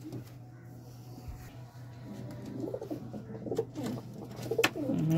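A pigeon kept in a home loft coos softly and repeatedly at close range, with light rustling and bumps growing louder toward the end.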